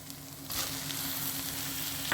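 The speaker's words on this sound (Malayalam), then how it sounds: "നമുക്ക് അരിഞ്ഞ് വെച്ചിരിക്കുന്ന തക്കാളിക്ക് അതിലേക്ക് ഇടാം." Chopped tomatoes drop into a hot pan of onion and garlic, setting off a sudden, steady sizzle that stays fairly soft and close, with no talk.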